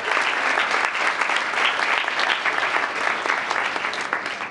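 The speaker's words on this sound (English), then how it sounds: "Another big round of applause for group one." A council meeting audience gives a big round of applause for a group of elementary school students, a full, dense burst of many hands clapping at close range that holds steady from start to finish.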